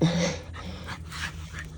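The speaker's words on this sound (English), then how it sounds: "Dude, I hate when my dog barks." A dog pants and huffs close by in a room, with a short breathy burst at the start followed by steady rhythmic panting and a low background hum.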